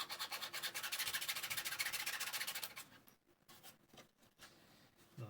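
Emery cloth is rubbed back and forth across a 3D-printed part in quick rhythmic strokes, a close, scratchy sanding sound that runs steadily for a few seconds before giving way to quieter, scattered scraping and handling.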